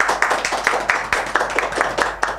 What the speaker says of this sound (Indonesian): Tepuk tangan buat bintang tamunya.